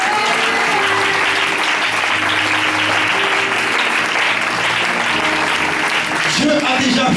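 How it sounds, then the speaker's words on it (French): Church congregation applauding and cheering for God during a French-language sermon, a loud, dense wash of steady clapping and voices that holds throughout, with a brief swell near the end. "Est-ce qu'on peut acclamer pour Dieu?"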